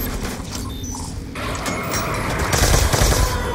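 Ray Gun Mark II fired continuously in Call of Duty Tranzit, a dense, loud stream of zapping bursts mixed with mechanical clatter, steady and close throughout.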